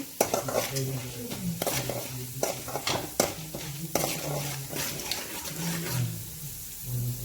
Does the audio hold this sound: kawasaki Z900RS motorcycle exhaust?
no